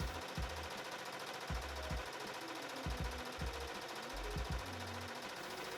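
A sewing machine stitches close to the folded edge of a long, thin fabric strip for a beginner sundress, running in short motorized bursts separated by brief pauses, close and fairly steady, with no talking.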